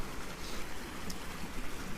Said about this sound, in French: je passe à côté d'un ruisseau et j'entends le flow de l'eau